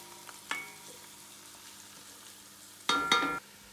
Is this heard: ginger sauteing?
yes